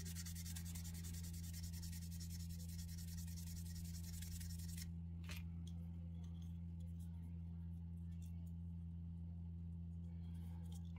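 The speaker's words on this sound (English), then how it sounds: "now we're going to go in with the sanding stick" Fine rubbing and scraping of a sanding stick on a plastic scale model, continuous for several seconds then stopping, over a steady low electrical hum.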